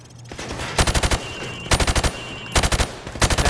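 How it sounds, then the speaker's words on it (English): A rifle fired from the hip at a shooting range in Call of Duty: Modern Warfare Remastered, cracking out in four quick rapid-fire bursts of about five shots each, loud and close with short gaps between bursts. "Now, shoot at the targets while firing from the hip."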